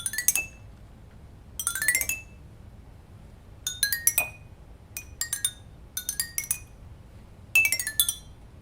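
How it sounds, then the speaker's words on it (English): Water-filled drinking glasses struck one after another in a row as a homemade instrument, giving bright, ringing clinks in quick bursts separated by short pauses, close and clear with no voices. "Listen to what happens when I play all the glasses in a row."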